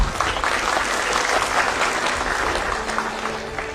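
An audience claps steadily and loudly throughout at a talk, a dense, continuous applause with no voices over it.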